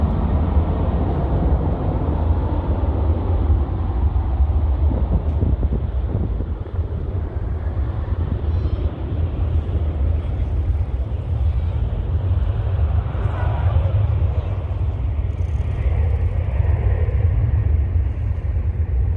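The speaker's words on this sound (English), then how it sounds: "2 planes coming in right at us here." Jet airliners landing at San Francisco International Airport, a United hub, two arriving in sequence, make a loud continuous low roar with rumble and wind buffeting that holds steady throughout, no talk over it.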